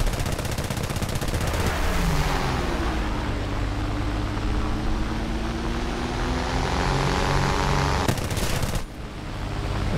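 Aircraft machine-gun fire from a bomber in War Thunder's air realistic mode while chasing a P-36. Continuous engine drone runs throughout, with bursts of rapid gunfire breaking in, loudest near the end.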